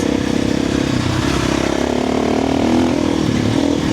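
Motorcycle fitted with a louder aftermarket exhaust and a fuel controller, accelerating hard as the throttle is twisted. A loud, close engine roar rises steadily in pitch over about four seconds.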